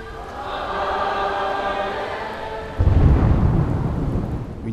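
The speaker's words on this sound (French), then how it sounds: "Une forte pluie s'abat sur Janville." Heavy rain pours down during a thunderstorm over Janville, a steady wash of rain that swells into a louder, denser downpour partway through, with a low rumble underneath and no talking.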